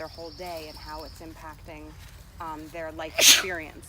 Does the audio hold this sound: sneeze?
yes